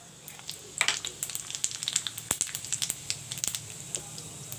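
Cumin seeds hitting hot mustard oil in a pan, a sharp crackling sizzle with rapid popping bursts that start about a second in and continue steadily, up close.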